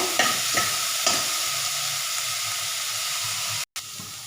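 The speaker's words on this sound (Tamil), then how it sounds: "வெங்காயம் இதோட சேர்த்தலாம் ரெண்டு நிமிஷம் வதக்கி எடுத்துக்கலாங்க" Onion and capsicum sautéing in a pan for capsicum kootu, a steady close sizzle with a few soft stirring scrapes near the start and a brief cut near the end; no one speaks.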